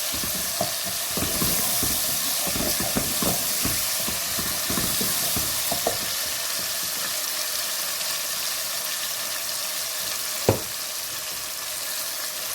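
Ingredients for boneless chicken handi, garlic and onion, sizzle and fry in a pot with a steady close hiss, broken by scattered stirring scrapes and one sharp clink of a utensil near the end; no voice is heard.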